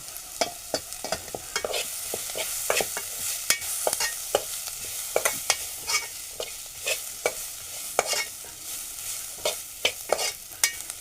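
Spices and masala being stir-fried in a pan with repeated scraping and clanking strokes of a spoon over a steady sizzle, close and fairly loud throughout.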